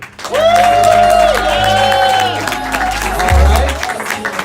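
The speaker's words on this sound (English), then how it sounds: "by round of applause, you guys are deciding who wins" A comedy roast battle crowd applauds and cheers to vote for comedian Jeremy Arroyo. Loud, sustained clapping runs under a voice shouting over the noise, then fades a little near the end.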